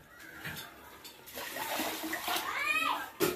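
Water sloshes and pours out of a vessel while rice is being washed, a close splashing gush that swells and fades, with voices faintly in the background.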